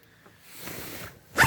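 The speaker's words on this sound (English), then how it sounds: "Then you've got the outer door, and that just zips straight down" A zipper on the outer door of a Dometic Santorini FTK 2x4 TC inflatable tent runs straight down in one soft, close pull, ending with a louder final rasp.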